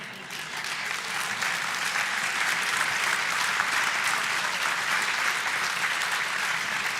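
Sustained audience applause fills a debate hall after a God-existence debate between Jordan Peterson and Matt Dillahunty, a dense, even roar of many hands clapping that holds steady for the whole stretch.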